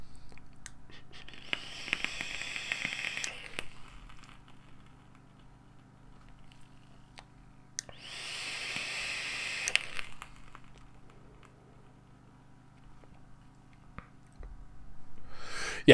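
Two bursts of hissing crackle from an e-cigarette coil on a wet wick, each lasting about two seconds with a pause between them. Both bursts are fairly quiet, over a low steady hum.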